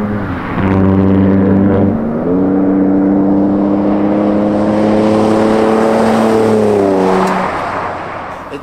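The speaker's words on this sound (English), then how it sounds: "It doesn't have as deep a throat as a V8, but it does have a deep throat for a V6." A Ford pickup truck's V6 engine with dual exhaust revs up loudly and steadily, its deep, sporty tone climbing and holding across several seconds with no talking over it.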